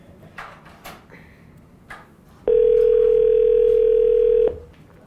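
A telephone dial tone holds a steady loud hum for about two seconds, with quieter background noise and faint shuffles before and after it.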